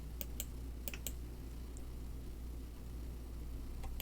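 A few sharp computer mouse clicks, close and isolated, spaced irregularly over a steady low background hum, with no talking.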